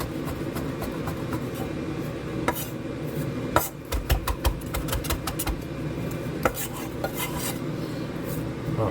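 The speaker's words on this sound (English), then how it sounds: "Get a nice rough chop over here." A knife roughly chopping washed coriander leaves and stems on a board, giving a quick run of uneven, close taps and thuds with a few sharper knocks, over a steady low background hum.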